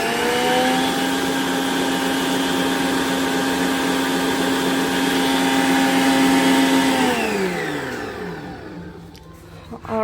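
A Whall tilt-head 4.5-quart stand mixer runs at top speed 12 with a loud, steady motor whine, then spins down, its pitch sliding lower near the end.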